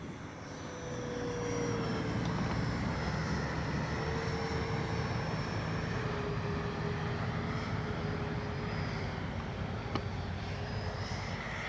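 An FMS F-16 RC jet with a 64 mm electric ducted fan flies overhead, its thin, steady whine rising from quiet into a sustained, moderately distant whoosh with slight pitch shifts as it passes.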